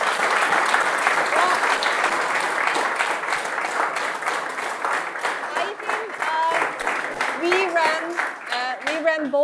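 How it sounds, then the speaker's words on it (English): Audience applause for student founding teams at a startup contest evening, steady crowd clapping throughout with voices talking and calling out over it in the later seconds. "I just want to give a last big applause for you teams"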